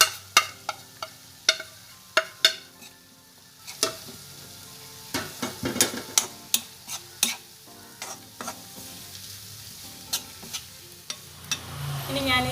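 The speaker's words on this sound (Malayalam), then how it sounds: "ഇനി നമുക്കിതിലേക്ക് നമ്മൾ പൊടിച്ച് വെച്ചിരിക്കുന്ന ചിക്കനും കൂടെ ആഡ് ചെയ്യാണ്." Ground chicken stirred in a pan with onions, a spatula scraping and clacking in irregular bursts over a soft, steady sizzle, close and fairly loud, with no voices.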